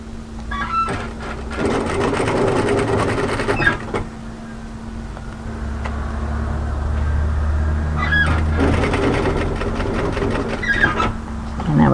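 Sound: overlocker sewing machine stitching fabric seam

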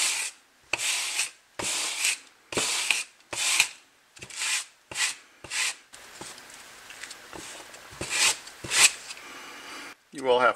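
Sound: sandpaper shredding landscape fabric

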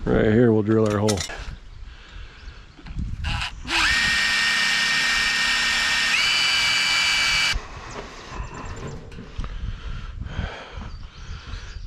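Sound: drilling a hole in wood post

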